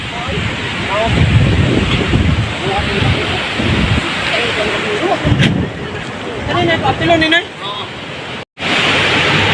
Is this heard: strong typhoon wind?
yes